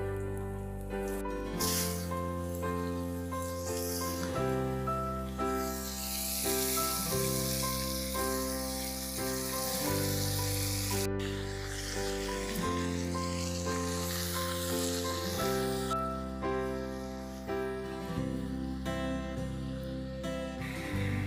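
Bottle gourd going into hot mustard oil with five-spice (panch phoron), two dried red chillies and a bay leaf, giving a steady, close sizzle that runs the whole time under continuous background music.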